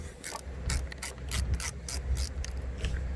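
A ratchet with a 10 mm socket loosens the negative battery terminal on a diesel Ford Super Duty, giving a close, rapid run of clicking pawl strokes over low rumbling background noise.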